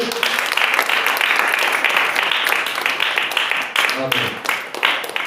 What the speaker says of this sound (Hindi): क्या आप ताली दे सकते हैं फिर से?